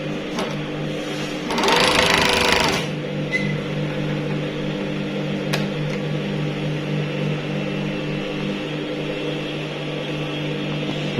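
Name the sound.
blind stitch sewing machine running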